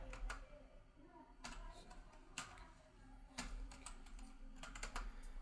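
Fingers tap out a captcha code on a computer keyboard, irregular clusters of crisp clicks at close range with short pauses between bursts and a faint room hum underneath.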